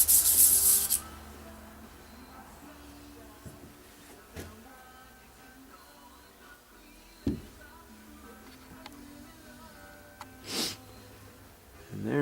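Bronze thrust washer from a 1980 Can-Am MX-6 125 is rubbed on 1000-grit paper, giving faint, soft scraping strokes at irregular intervals over a quiet background, with a loud hiss at the start and occasional breaths.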